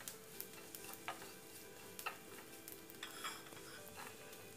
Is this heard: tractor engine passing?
no